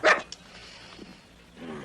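A dog gives one sharp, loud bark near the start, followed by a few fainter noises.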